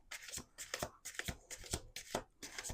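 A deck of cards being shuffled in repeated quick riffling bursts, crisp and close, with brief pauses between each pass.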